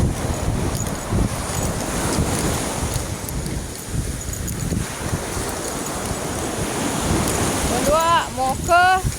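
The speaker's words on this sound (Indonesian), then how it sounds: "Oh Tuhan, lebih besar sekali ini ombak." Big ocean waves crash and roar on a beach amid heavy wind buffeting the microphone, a loud continuous surge, with voices calling out near the end.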